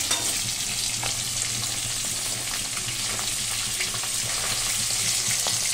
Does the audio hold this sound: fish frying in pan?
yes